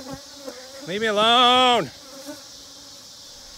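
Honey bees swarm close around a beekeeper in a bee suit at a flow hive, giving a loud, rising buzz that swells for under a second and then cuts off, with a brief spoken phrase beforehand.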